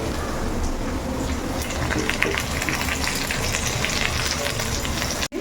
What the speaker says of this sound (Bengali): আলু পেঁয়াজটা দেখুন ভাজা হয়ে গেছে এবার আমি এর মধ্যে দিয়ে দিচ্ছি টমেটোটা আর এই কেটে রাখা কাঁচা লঙ্কাগুলো